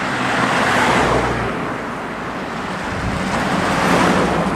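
A modified, extreme-style Vespa scooter rides along a road, giving a steady, loud broadband engine-and-wind roar that holds for several seconds with a low rumble beneath it and no voices.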